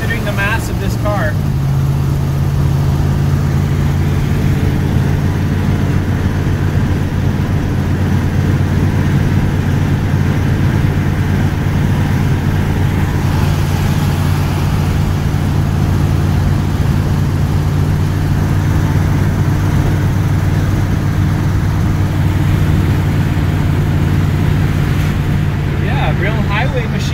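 Steady engine drone of a 1982 Checker Marathon while driving, a constant low hum and rumble lasting throughout, close and loud, with brief voices near the start and end.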